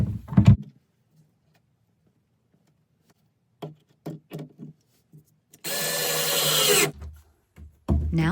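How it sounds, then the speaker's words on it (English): A power drill drives a screw into wood while building extra closet space: a short opening burst, then a few taps and handling knocks, followed by a loud steady whir of just over a second, then more clunks. "then I can finish screwing it with a drill"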